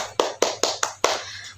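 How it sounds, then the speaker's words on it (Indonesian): Five sharp hand claps from children at a Sunday school service, spaced evenly about a fifth of a second apart over a low steady hum, with no talking. "Tepuk tangan dulu untuk kita semua."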